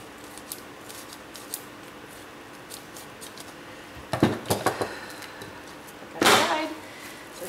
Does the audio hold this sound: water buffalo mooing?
no